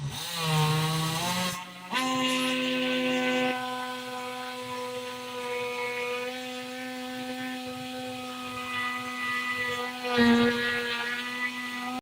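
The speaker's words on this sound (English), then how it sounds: "So let's cut a hole" A power saw cuts a hole for an inspection hatch, giving a steady, high-pitched, tonal buzzing whine. It starts after a brief break, then holds close and fairly loud, with slight shifts in pitch as the blade works through the material.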